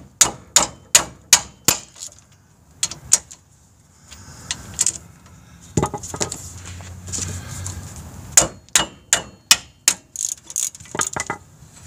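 Repeated sharp metallic hammer strikes on a GMC Envoy's brake caliper bracket in quick bursts, pausing for a few seconds of quieter clatter before another rapid series of blows.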